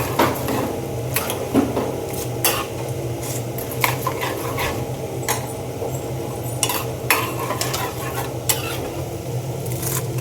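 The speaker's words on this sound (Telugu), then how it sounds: "ఇదిగోండి ఎండుమిరపకాయలు ఇలా వేసేసుకుని మంచిగా పోపు వేగాలన్నమాట" Cumin and dried red chilies sizzle in hot oil as a tempering for a Telangana-style cucumber peanut chutney, making a steady, close crackling hiss with occasional utensil scrapes.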